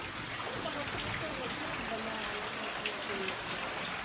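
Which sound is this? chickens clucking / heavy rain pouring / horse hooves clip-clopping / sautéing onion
heavy rain pouring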